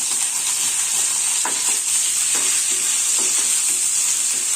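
Chopped onion tossed into a pan of curry leaves and stirred, loud close sizzling with repeated scraping strokes of the spoon, no voices.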